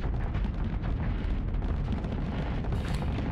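Mortar explosions in the space combat game Starsector, a dense continuous rumble of booming blasts layered together, loud and steady throughout with no clear gaps.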